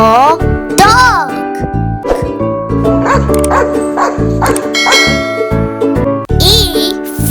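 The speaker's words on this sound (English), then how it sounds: "D for dog." A dog barks in short bursts mixed into a busy children's alphabet song, with clanging, ringing tones and music playing loudly throughout.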